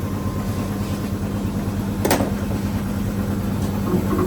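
A single sharp pop rings out as a tyre bead seats onto the rim during inflation on a Suzuki Swift ZXi, cutting through the steady hum of a nearby compressor or engine.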